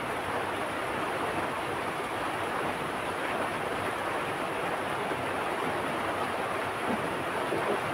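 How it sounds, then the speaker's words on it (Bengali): Heavy rain falling hard and steady, a dense, constant hiss close around with no pauses and no voices. "জোরে জোরে বৃষ্টি আসছে, জোরে জোরে।"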